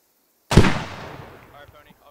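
A single mortar explosion in the military video game Squad, a sharp loud blast after a half-second of silence that decays into a rumbling tail over more than a second.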